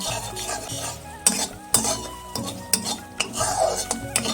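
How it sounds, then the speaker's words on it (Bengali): A spoon stirs sugar syrup for a sweet chutney in a pan, steady scraping and gentle sizzling with a few sharper utensil knocks against the pan, close and alone with no talk. "রসালো ভাবটাকে আর একটু গাঢ় করে নেব নাড়াচাড়া দিয়ে নাড়াচাড়া দিয়ে গাঢ় করে নেব"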